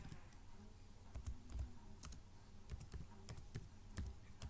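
Typing on a computer keyboard, a steady run of quick, light key clicks with irregular bursts and pauses, close and moderately loud with no voices.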